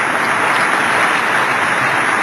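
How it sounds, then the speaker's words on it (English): A large audience at a New York State of the City address applauds, a loud, dense, unbroken wash of clapping that holds steady like rain throughout. "And yes, you can applaud."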